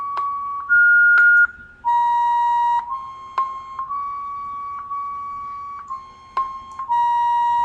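Synthetic musical note tones generated in Python play one after another, steady electronic beeps at shifting pitches, clean and clear with short gaps between notes.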